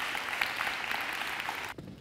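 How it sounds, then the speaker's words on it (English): Brief audience applause at a high school fine arts signing day, steady quiet clapping for under two seconds that cuts off sharply. "So let's all give him a big round of applause."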